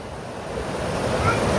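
Water pours into Vellalapuram lake from the Sarabanga river, a steady broad rushing roar that swells slightly, heard close with some wind on the microphone.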